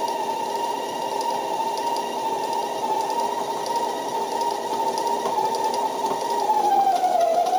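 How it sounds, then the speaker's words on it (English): Stand mixer beating brioche dough at medium-low speed, a steady close whirring motor hum that runs unbroken throughout, with a slight pitch shift near the end and no talking. "I'm going to put this mixer back on a medium-low, and I'm going to let it go for about 5 minutes"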